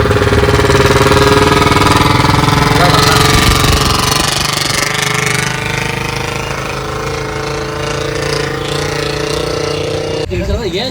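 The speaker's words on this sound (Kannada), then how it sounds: "ಬುಲೆಟ್ ಗಾಡಿ ಟ್ಯಾಕ್ಸಿ ಮಾಡ್ಯಾರ." A Royal Enfield Bullet motorcycle used as a taxi thumps steadily at close range, its engine note loud and continuous before easing slightly partway through, with a jolt of handling noise at the end.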